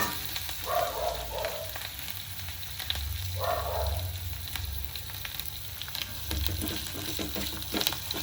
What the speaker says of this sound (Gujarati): કઢી લીમડો અને મરચાં કટ કરી નાખેલા હતા એ પણ થોડા મિક્સ કરી લઈશું